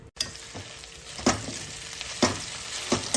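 Ginger-garlic paste frying in oil in a pan for a chicken dish, a steady sizzle with several sharp scraping stirs at roughly one-second intervals, close and clear with no talk.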